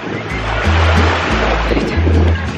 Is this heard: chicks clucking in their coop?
no